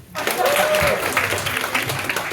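Applause from a comedy magic show audience breaks out and holds as a dense, continuous clatter of clapping, loud and close for the whole stretch, with a voice briefly heard over it.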